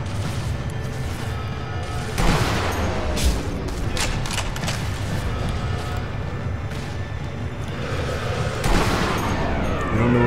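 Gunfire and explosions from the video game Sniper Elite V2, a dense continuous barrage of shots with a couple of heavier impacts standing out, loud throughout with little pause.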